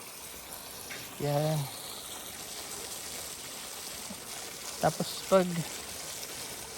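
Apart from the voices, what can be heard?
water flowing out of a fishpond drainage into a stream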